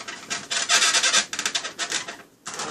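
Styrofoam shipping crate rubbing and scraping in a kitchen while a T-bone steak is patted dry, a loud continuous squeaky rasp in uneven strokes with one brief pause near the end.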